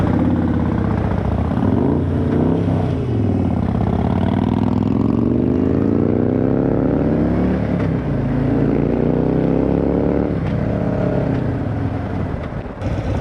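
A 2013 Harley-Davidson Sportster 1200 Custom motorcycle engine rumbles loudly and close while riding, its pitch climbing repeatedly through acceleration and gear changes over steady road and wind noise.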